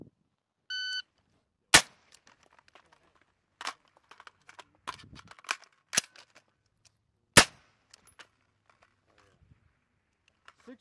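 Rifle shots ring out at a Marine squad shooting competition at Camp Pendleton: a short electronic beep, then several sharp, loud cracks spaced seconds apart, with scattered fainter clatter and handling noise between them.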